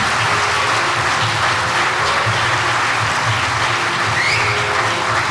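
Loud, sustained applause from a theatre audience at a Marathi stage show, BMM 2019, steady clapping filling the whole stretch without pause.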